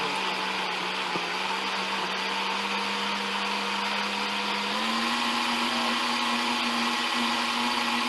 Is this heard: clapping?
no